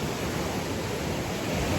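Big ocean waves rolling in on a beach during a morning walk, a continuous broad roar of surf close by, with no talk.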